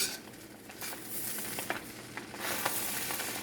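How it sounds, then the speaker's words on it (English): Ackee and saltfish with vegetables and spice frying in a pan, a steady sizzle broken by a few scraping stirs of the spoon, close and continuous with no voices. "We're going to stir again."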